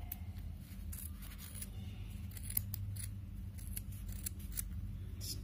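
Scissors snip through yarn for a pom pom in a rapid series of close, crisp cuts over a low steady background hum.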